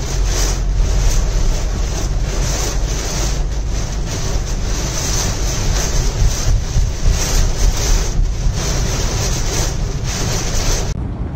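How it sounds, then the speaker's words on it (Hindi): Strong wind blowing during heavy Mumbai monsoon rains near Breach Candy, a loud roaring gust battering the microphone with rumbling surges that continue unbroken, no talk over it. "हवा कितना चल रहा है ना, बाइक वाले भी रुक गए।"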